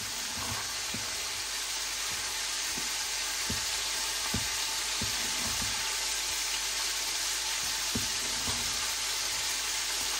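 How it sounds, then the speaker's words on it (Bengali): Moong dal fries with spices in a pan, giving a steady, bright sizzle throughout. Occasional soft knocks of a stirring utensil break through the sizzle, close and continuous, with no voices. "মুগ ডালটা কষাই নিচ্ছে"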